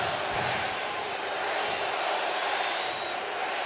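Crowd at Citi Field during a Yankees vs Mets baseball game, a broad steady roar of cheering and noise from a distant mass of fans, continuous and even throughout, with faint talk mixed in.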